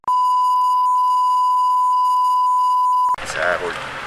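A single long electronic beep from a store barcode scanner holds steady for about three seconds, then cuts off into a brief rustle of handling and background noise in a shop.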